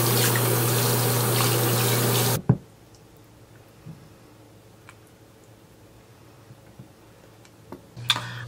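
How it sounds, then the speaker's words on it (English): Water runs steadily from a tap for about two and a half seconds while skincare pads are rinsed, then stops abruptly, followed by quiet handling noises and a brief renewed gush at the end. "So I'm gonna rinse these two out."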